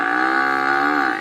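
A cartoon buffalo gives one long, loud, drawn-out moo, steady and close, ending abruptly with no voices over it.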